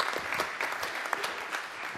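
Steady clapping from a conference audience fills the whole two seconds, a dense, even patter of many hands with no voices over it.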